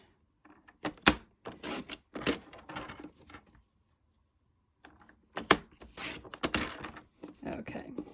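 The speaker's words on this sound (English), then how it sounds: "So let's trim that." A paper trimmer slices strips of cardstock in several quick, separate swishing passes, close and fairly quiet, with short pauses between the cuts.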